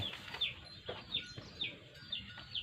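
A hen with her chicks makes a soft, quiet sound: a string of high, evenly spaced peeps repeats about every half second over faint low clucking and background noise.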